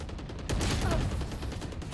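Rapid bursts of gunfire crack out close and loud in the tactical shooter Valorant, a dense cluster of shots packed into about a second and a half after a brief quiet start.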